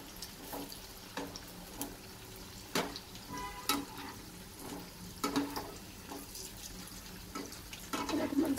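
Potato bhaji bubbling in hot oil, a soft steady sizzle with faint crackles and occasional clinks of a utensil, fairly quiet throughout.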